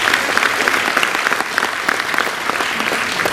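Loud, dense applause from an audience at a Marathi talk event with film cast members, sustained clapping close by with no pauses, filling the whole moment.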